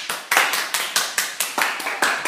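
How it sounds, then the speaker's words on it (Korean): A class of students applauding in a classroom, a burst of steady clapping with repeated sharp hand claps at an even rhythm, near and fairly loud. "자, 박수 좀 주십시오."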